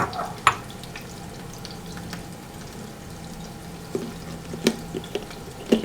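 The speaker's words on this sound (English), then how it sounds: "Alright, so our onions are cooking" Onions frying in a pan, a low steady sizzle under a few sharp clinks and knocks of utensils, moderate in level and close, with no talking.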